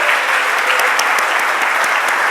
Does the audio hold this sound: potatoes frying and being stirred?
no